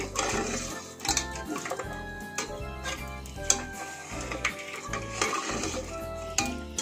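Coconut milk payasam being stirred in a pot, a spoon scraping and knocking against the sides in a steady repeating rhythm, close and moderately quiet, with a brief spoken word.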